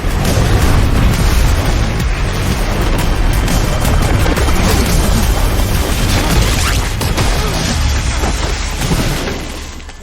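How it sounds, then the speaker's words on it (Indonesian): A flamethrower's fuel tank blows up in a film action scene: a loud, sustained explosive roar with rumbling bursts and crackling debris that holds for several seconds before tapering off at the end. "sebuah peluru mengenai tangki senjatanya, membuat senjata itu meledak dan membunuh Dex"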